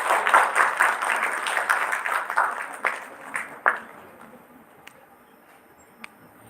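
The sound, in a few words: audience round of applause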